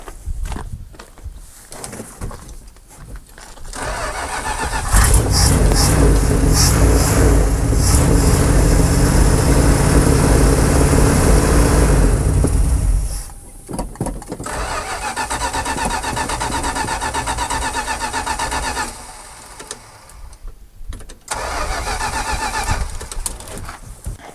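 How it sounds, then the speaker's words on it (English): A long-idle Dodge Power Wagon engine cranks on a tired starter, first in short labored bursts, then a loud sustained roaring crank for about eight seconds, followed by more uneven cranking attempts, close and without speech. "This starter is for sure getting tired."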